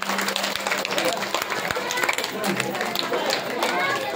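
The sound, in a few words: audience clapping at a school annual day celebration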